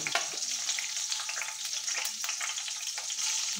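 Mustard seeds spluttering in hot oil for a tempering while making beetroot pachadi, a dense, steady crackle and sizzle with scattered sharp pops that runs loud and unbroken throughout, with no voices over it.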